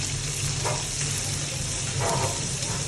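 Field crabs fry in hot oil, giving a continuous close sizzle with brief louder crackles at a couple of moments.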